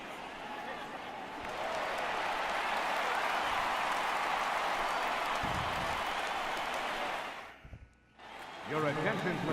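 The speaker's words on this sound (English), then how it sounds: "So he receives a nice ovation from this home crowd" Home crowd ovation in the MLB The Show 18 baseball video game, with the Dodgers facing the Diamondbacks: sustained loud applause and cheering that swells for several seconds, drops briefly, then resumes with some crowd noise.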